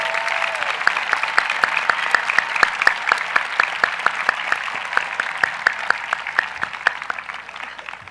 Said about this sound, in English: A round of applause for all those students,